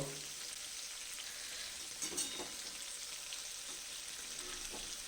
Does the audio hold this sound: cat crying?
no